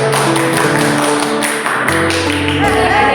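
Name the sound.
scout clap, rhythmic group clapping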